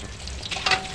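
Chicken pieces sizzle steadily in hot oil while being fried for a home-style chicken chopsuey, a dense, continuous crackle with a brief louder burst near the end, no talking.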